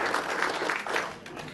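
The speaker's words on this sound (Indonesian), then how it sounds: "Beri tepuk tangan dong buat Ibu Sumi." An audience claps at an Indonesian gathering. The applause is brief, moderately loud and steady.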